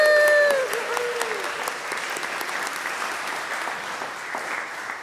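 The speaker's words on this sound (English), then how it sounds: "Another round of applause for our actors." An audience applauds the actors after a performance, steady dense clapping throughout with a brief trailing voice at the start, moderately loud and filling the room.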